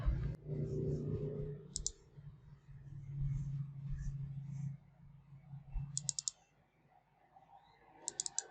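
A computer mouse clicks a few times while Windows 11 drivers are downloaded and installed, leaving short, crisp clicks in small bursts over a low room hum and faint background murmur.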